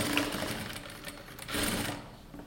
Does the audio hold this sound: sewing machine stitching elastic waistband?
yes